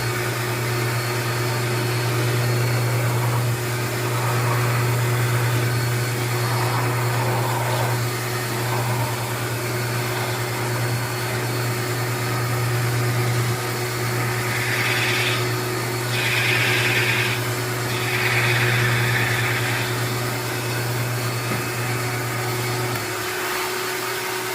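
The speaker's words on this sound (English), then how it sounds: "Now it's going to get loud when I turn on the vacuum." A vacuum cleaner drones steadily for the whole stretch, a loud constant motor hum with a whooshing airflow that shifts slightly now and then.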